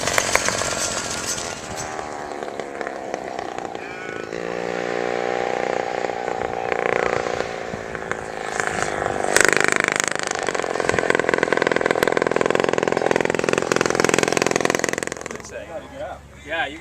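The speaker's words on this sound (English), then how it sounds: "Actually runs on a real linear engine" A reproduction car's engine runs at a spring auto show at a transportation museum, a loud, rough, buzzing drone that rises and falls in pitch for most of the stretch and drops away near the end.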